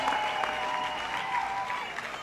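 A large, enthusiastic crowd at a presidential campaign rally applauds steadily, a dense wash of clapping at moderate distance that holds level without any break.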